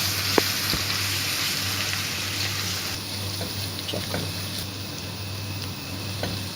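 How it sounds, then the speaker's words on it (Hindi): Garlic fries in hot oil in a wok with a steady, even sizzle and hiss throughout, close by, with a couple of faint clicks and no talking. "कढ़ाई में हमने ऑयल डाल के रख दी, थोड़ा सा गर्म हो चुका है। अब इसमें हम डालेंगे लहसुन"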